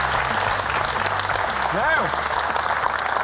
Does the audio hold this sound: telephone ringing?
no